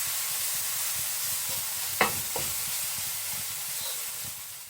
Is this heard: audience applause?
no